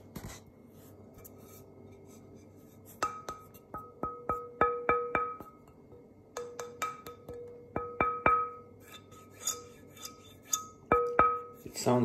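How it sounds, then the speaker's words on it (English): Bright, ringing taps on a 100-year-old rosewood tonewood blank come in short bursts of several quick knocks, each with a glassy resonant ring, separated by quiet pauses. "let me tap on the blank for you."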